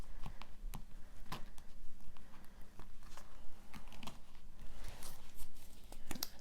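A deck of tarot cards being cut and shuffled by hand, with steady soft papery riffles and sharp taps repeating close to the listener throughout, with no voice over them.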